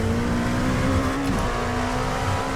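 Engine of a Dallara P217 LMP2 race car on cold tires in the iRacing video game, a loud steady high-revving drone with a pitch drop as it shifts or lifts, then holding on, close and alone.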